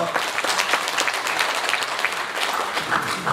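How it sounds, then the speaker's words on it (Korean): Steady applause from an audience at a Democratic Party Chungbuk New 100 Years Committee launch ceremony, dense continuous clapping at moderate level for the whole stretch without a break. "박수 부탁드리겠습니다"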